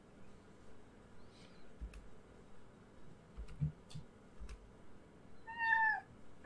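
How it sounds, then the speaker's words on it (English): A cat gives a single short meow near the end of the clip. Faint scattered ticks and rustles are heard before it, and there is no speech. "It is a cat."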